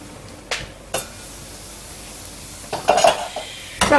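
Chopped onions sweating slowly under a lid in a pan on low heat, with a soft steady hiss and a few light clinks of pan or utensil.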